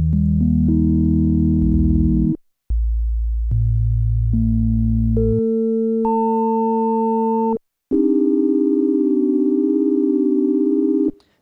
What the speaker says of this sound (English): 16 is organ and whistle, which you can see is pretty close to a sine wave.